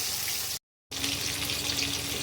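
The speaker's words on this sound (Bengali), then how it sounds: "তেল দিয়ে দিয়েছি কড়াতে তেলটা গরম হয়ে গেছে মাছটা আমি ছেড়ে দেবো" Thin pieces of rohu fish fry in very hot oil in a kadai, giving a loud, continuous, bright sizzle that cuts out for a moment and then returns.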